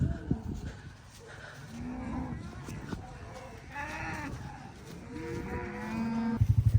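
Cattle on a farm moo repeatedly in several drawn-out, fairly close calls over general herd noise, with some rustling and knocks near the end.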